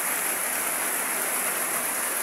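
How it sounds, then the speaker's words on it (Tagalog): Heavy rain pours down on a Sunday in a steady, dense hiss, loud and unbroken throughout, with no voices. "Grabe yung ulan. Basang-basa."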